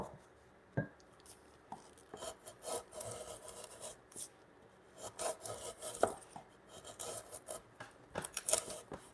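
A sharp chisel pares timber in a hand-tool workshop with repeated close scraping, rasping strokes at an uneven pace and occasional sharper knocks, with no talk.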